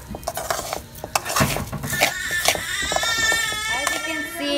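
Spoon stirring and scraping around a cooking pot as onion powder is mixed in for nacho toppings, with clinking metal contacts and light sizzling throughout, close and fairly busy, with brief speech in places.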